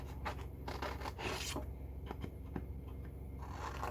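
Scissors cut a circle out of a paper image with short snipping and rustling strokes, quiet and close, in a steady irregular rhythm.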